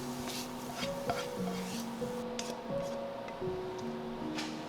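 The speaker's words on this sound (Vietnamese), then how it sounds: "Xào lên cho nấm thơm là được, không cần phải chín kỹ nha" Mushrooms are stir-fried in a pan with steady scraping and stirring, faint sizzling and clinks of utensil against cookware, close and moderately quiet with no talk, amid faint tonal sounds in the background.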